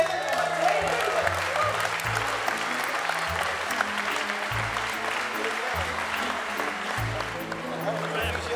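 Sustained audience applause at a music event, dense and steady throughout, with a low repeating band of music or hum beneath it.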